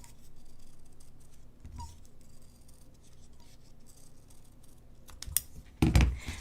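Scissors cutting a circle out of paper for a pinned star swirl ornament, with soft intermittent snips and rustles and a few louder crunchy cuts near the end, close and quiet with no talk.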